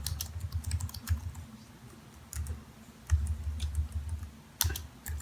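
Typing on a TeckNet X360 Bluetooth keyboard: a steady run of close, crisp key clicks with a few louder taps, and no voices.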